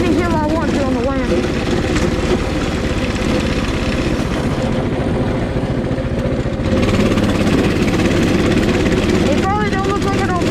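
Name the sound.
Coleman 200cc mini bike engine while riding uphill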